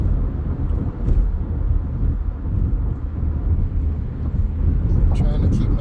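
A car driving on a road during a driving lesson, heard from inside as a loud, steady low rumble of engine and road noise, with a few brief higher clicks near the end.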